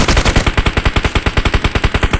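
Rapid automatic gunfire in a video game shootout, a fast steady burst of loud shots repeating close up for a couple of seconds.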